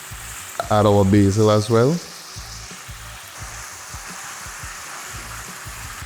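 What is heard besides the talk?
garlic and tomatoes sauteing in oil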